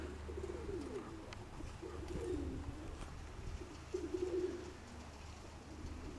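A pigeon coos in three soft, rolling phrases, close but fairly quiet, over a faint low background hum.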